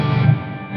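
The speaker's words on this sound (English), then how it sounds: "It's just got a little bit of distortion." An electric guitar with a light, gritty distortion rings out in a short phrase, its low notes sustaining and then fading.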